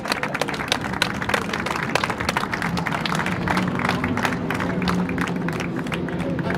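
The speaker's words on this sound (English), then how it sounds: "Round of applause, everyone, for our podium drivers" Podium crowd at the Oschersleben GT Summer Series race applauds the drivers, a dense steady wash of clapping with scattered cheers and a low crowd murmur throughout.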